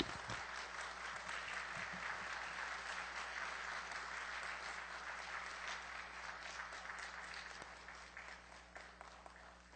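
A church congregation at a revival seminar claps warmly to welcome a guest speaker, producing dense, steady applause that fills the room for nearly ten seconds and eases slightly toward the end.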